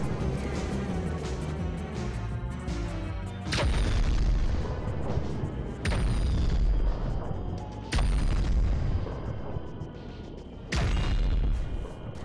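Series of four heavy booming blasts as a DJ booth is blown up in Plants vs. Zombies: Garden Warfare 2, each sudden and loud over pulsing game music, spaced a couple of seconds apart.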